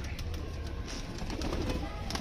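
Pigeons cooing close by, soft throaty warbles layered over a flutter of wings and background rustle.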